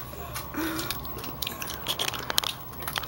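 Close, wet chewing and biting with crunchy, irregular bursts of mastication that run steadily through the clip with no talking.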